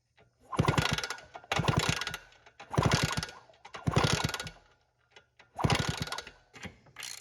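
Ratchet installing a spark plug on a 1978 Suzuki DS100 motorcycle, clicking in five distinct bursts of rapid pawl ticks with short pauses between them, close and clear.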